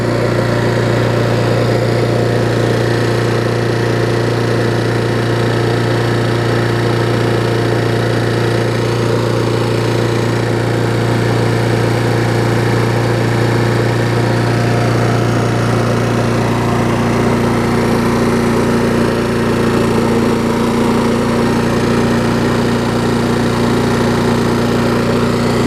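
An MTD lawn mower with a Honda engine, smoking a little and suspected of worn piston rings, runs steadily up close, a loud unbroken engine drone with no change in speed.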